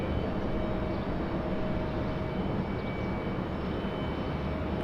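A landed airliner at Raleigh-Durham International Airport gives a steady, loud jet engine rumble that holds constant throughout, with a faint whine running above the broad roar.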